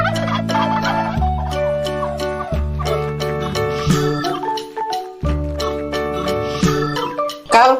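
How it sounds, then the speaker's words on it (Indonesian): A turkey gobbles in quick rattling bursts over playful children's music with a steady beat, the farm bird's calls close and prominent near the end. "Kalkun."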